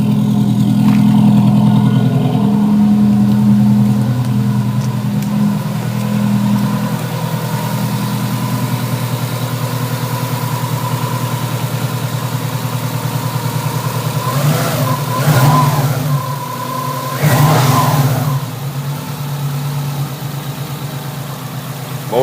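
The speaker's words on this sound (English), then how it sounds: "Let's go have a listen to the motor." A Subaru EJ257 SOHC hybrid engine with a newly installed custom up pipe idles steadily nearby, rumbling low, then revs sharply twice in quick succession before settling back to idle.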